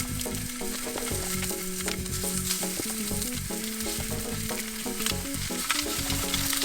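Swedish meatballs sear in a hot pan with a steady, loud sizzle and crackle, light clinks and stirring noises scattered over the frying hiss.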